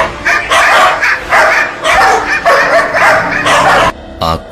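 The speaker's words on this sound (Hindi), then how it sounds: "सौम्या के लाख मना करने पर भी निकिता कुत्तों को भगाने के लिए गाड़ी से नीचे उतरी" Dogs bark and yip in repeated loud bursts with whimpering, close and unaccompanied by talk, used as a sound effect in a Hindi horror story narration.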